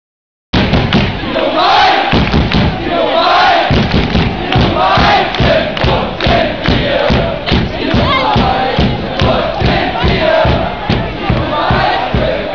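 A large stadium crowd of VfL Bochum supporters chants a rhythmic triple "Blau" cheer, loud and massed, with a steady pulse of shouted syllables and thumping beats throughout.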